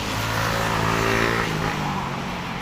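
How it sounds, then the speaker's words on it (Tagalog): Fast cars rush past on a road by the bay with a loud, continuous engine roar and tire hiss that swells and slightly fades, no voices over it. "Ang bibilis ng mga sasakyan, oh."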